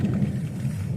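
Low, continuous rumbling of thunder during a heavy storm with rain, a steady dense roar filling the whole moment without any voices.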